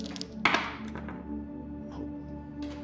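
A die dropped onto a tabletop during a board game lands with a single soft thunk and a few faint rattling taps afterward, close and quiet.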